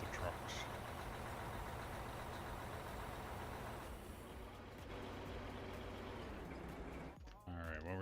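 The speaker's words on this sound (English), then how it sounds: "Can't hear you over the exhaust of the trucks." Truck engines in the Out of Ore mining game give off a steady, loud exhaust drone that fills the whole stretch, with people talking over it.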